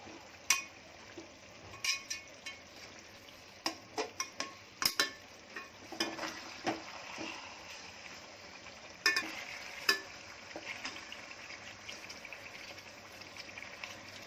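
Lagan chicken tandoori turned over in a pot with a spoon, giving scattered metallic scrapes and clinks over a steady low sizzle from the medium flame, with no talk.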